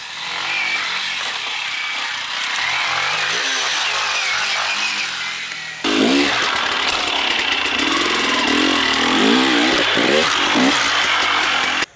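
Dirt bike on a dirt practice track engine running steadily, then surging louder with revving as it accelerates over a pipe obstacle, close and continuous.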